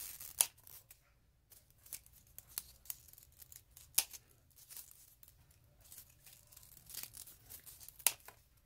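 Scissors snip through paper embellishments for a shabby chic altered book, giving a scattered run of short, crisp cuts and light rustles, fairly close and quiet, with no talking.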